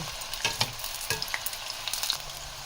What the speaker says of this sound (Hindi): तो आप स्लो स्लो फ्लेम पे इसको फ्राई करते जाएंगे।